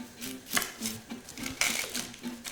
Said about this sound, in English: The first step, we are gonna chop some onions.